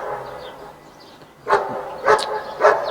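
A dog barks three times in quick succession, loud and close, after a stretch of low background hum.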